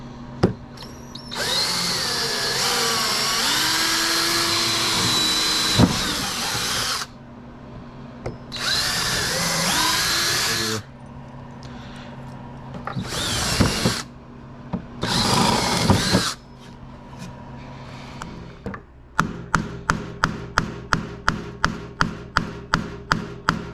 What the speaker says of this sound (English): My purpose there was to get 2 marks so I know exactly where to drill these holes.